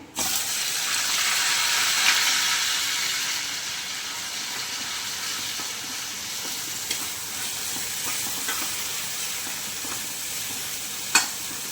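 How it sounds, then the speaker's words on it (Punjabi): Chopped onions with cumin fry in a pan for pumpkin kofta, giving a loud, steady, close sizzle with occasional stirring clicks and scrapes, and no talking. "ਫਿਰ ਆਪਾਂ ਇਹਦੇ ਵਿੱਚ ਜਿਹੜੇ ਆਪਾਂ ਪਿਆਜ਼ ਚੌਪ ਕਰਕੇ ਰੱਖੇ ਸੀਗੇ ਉਹ ਵੀ ਆਪਾਂ ਇਹਦੇ ਵਿੱਚ ਪਾ ਲੈਣੇ ਆ"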